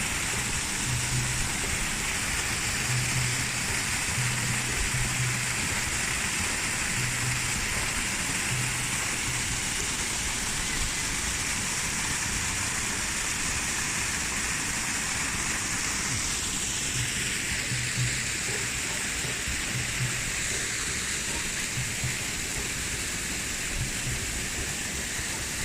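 A waterfall in Lebanon roars as a dense, continuous rush of falling water, loud and steady for the whole stretch, with faint low tones beneath.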